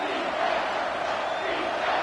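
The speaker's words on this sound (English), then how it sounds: "3rd down, and this crowd is tearing the lid off this place." A stadium crowd in the NCAA 25 college football video game roars loudly and continuously on a third down, a dense, unbroken wall of cheering with no clear speech on top.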